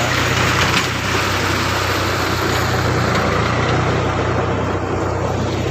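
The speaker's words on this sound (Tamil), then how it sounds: "அது வந்து ஆயில் மோட்ரு ஓடிட்டுருக்கு. இது கரண்ட் மோட்ரு ஓடுது." An oil-powered motor runs on a farm in a village, a steady, dense mechanical drone with a low hum that holds constant at close range and fairly loud, with no voices over it.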